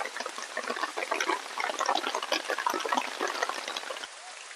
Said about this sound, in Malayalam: ഈ ടാർപോളിൻ ഷീറ്റ് നല്ല കടകടകടാന്ന് ഒച്ച വരുന്നു